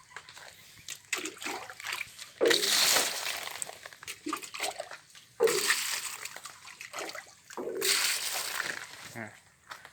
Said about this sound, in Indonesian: Jadi di situ ada aliran air turun.